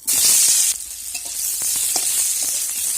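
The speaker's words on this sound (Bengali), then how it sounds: "এবার এই তেলের মধ্যেই আমি আলুগুলোকে ভেজে নেব।" Two medium half-boiled potatoes fry in hot oil, a loud sizzle bursting at first and then settling into a steady crackle with light stirring, no talking.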